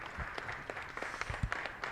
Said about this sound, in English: A round of applause, please, for the MGM staff.